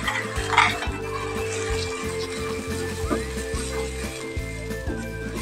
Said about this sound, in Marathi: गॅस कमीच ठेवायचा आणि मसाला हा सगळा आपण भाजून घेऊया।